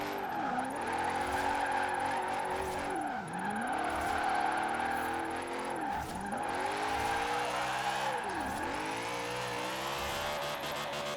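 A BMW drifting in Forza Horizon 4, its engine revving strained and high while it sweeps up and down in pitch through four long slides, with steady tyre squeal under it.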